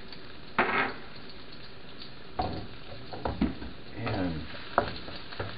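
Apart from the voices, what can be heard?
sauteing curry and ginger in a pan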